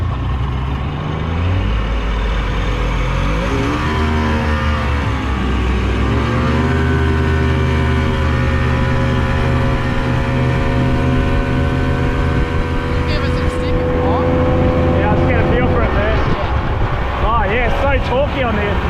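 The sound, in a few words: fast inflatable rubber boat engine revving while driving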